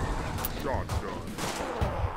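Shotgun fire in the Dead Sky video game, a few separate heavy blasts spaced apart at moderate loudness, mixed with voices and game sounds.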